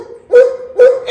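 A dog close by gives three short, whiny barks in quick succession.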